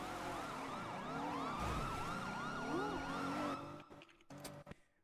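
A loud wailing siren in GTA roleplay rises and falls repeatedly, then cuts off abruptly, leaving a few scattered thuds and clicks.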